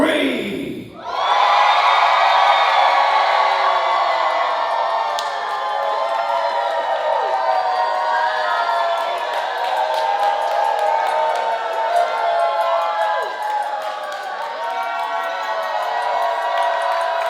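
Guests at a wedding reception scream and cheer for the groom, a loud sustained crowd roar that rises suddenly after a brief pause and carries on with whoops and shouts throughout.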